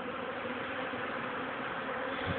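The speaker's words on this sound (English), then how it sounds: "The extensive number of bees. There must be beehives in the area." A dense, steady buzz of many bees swarming close by around a hive, continuous and fairly loud, with no voices.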